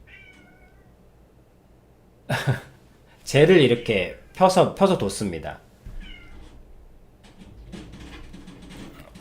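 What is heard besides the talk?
cat meowing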